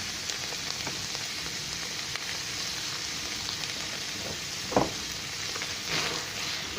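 Béchamel being stirred into stuffing in a hot pan for a Lebanese dish of coquilles, a soft continuous sizzle with a couple of brief scraping stirs of the spoon, close and quiet, no talk.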